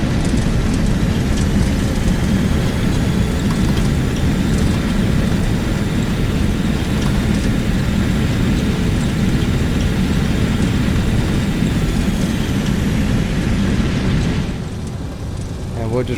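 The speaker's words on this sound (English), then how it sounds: "Alright, full reverse." An MD-80 airliner's jet engines roar steadily at full reverse thrust during landing rollout in X-Plane 11, a loud, continuous rumble that eases slightly near the end.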